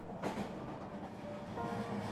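A toy-story train rolls along with a steady clickety-clack of wheels on rails, a continuous moderate rumble with faint rhythmic clicks and no talking.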